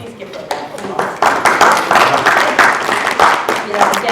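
Audience at a school committee meeting applauds a staff member, a steady wash of clapping that swells and holds for several seconds, with some voices mixed in.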